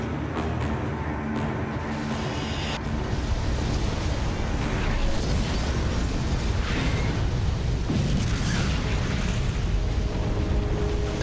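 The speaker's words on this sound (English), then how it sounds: "That was a nice explosion." A sustained, dense rumbling blast from a space explosion in the game Freelancer, loud and broadband with a rolling roar that persists for several seconds, without voices.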